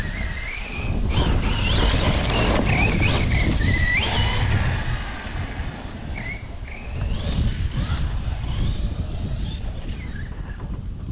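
Wind buffets the microphone in heavy gusts outdoors, with a low roar rising and falling and a faint engine-like hum underneath.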